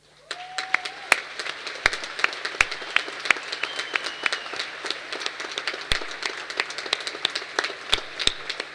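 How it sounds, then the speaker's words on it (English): Audience applause at a university graduation ceremony for theology and engineering graduates: a steady, sustained wash of many hands clapping, with sharper individual claps standing out and a faint held tone in the background. "acknowledge the support with a hearty round of applause"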